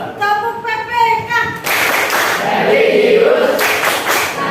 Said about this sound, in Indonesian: ada baiknya kita tepuk PPK dulu, ya, penguatan pendidikan karakter. Tepuk PPK.